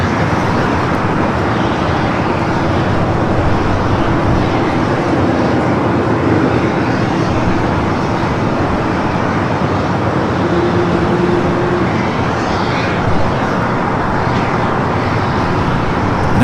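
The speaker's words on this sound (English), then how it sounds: "Next takeoff here on the south side is Breeze, flight 399, heading to Jacksonville, Florida, the Airbus A220-300" A Breeze Airways Airbus A220-300 taking off from the south side at Los Angeles International Airport, a loud continuous broadband jet roar that holds steady throughout without letting up.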